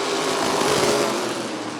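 A pack of race cars at Rockford Speedway roars off at the green flag, a dense, bright engine drone, loud and steady through the short stretch.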